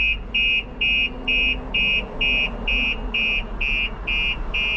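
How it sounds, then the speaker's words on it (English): A 2021 Audi R8's Starline S96 car alarm beeps in a steady, evenly spaced pulse, about ten high-pitched tones, over a low engine-like hum, triggered with the ignition on. "after a few seconds it sets the alarm off"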